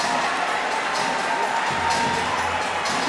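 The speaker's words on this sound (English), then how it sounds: "And now the crowd cheering around 15:11" Crowd at a girls' 5000m race at an indoor national track championship cheers steadily, a broad continuous roar that swells slightly near the end, with faint voices mixed in.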